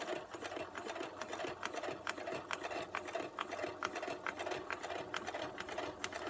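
A sewing machine runs steadily while stitching a small handmade mini notebook, giving a fast, even mechanical chatter at close range with no speech.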